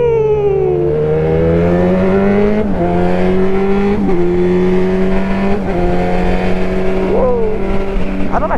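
A Yamaha XJ6 motorcycle rides on the road, and its engine drones steadily and loudly close by. The engine pitch rises and falls with gear changes and throttle, over continuous wind and tire noise.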